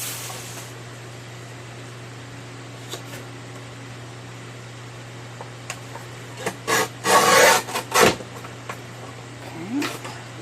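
Stampin' Up paper is trimmed for journal cards, a few quick close rasping slides of a paper trimmer blade clustered near the end over a steady low hum.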